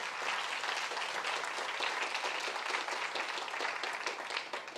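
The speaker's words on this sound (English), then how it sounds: "should we give John a nice little round of applause to say thank you?" A ceremony audience at a writers' awards event gives a sustained round of applause, dense steady clapping filling the hall for several seconds at even loudness, with no talk over it.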